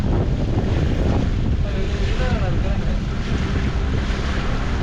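A boat cruises the backwaters at Munro Island, Kerala, a constant rumble of motor and rushing water heavily buffeted by wind on the microphone, steady and close, without clear speech.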